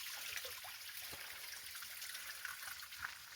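Water trickles and splashes softly and steadily at a mountain spring at Wangedigala, a faint continuous babble with small drips, heard alone outdoors.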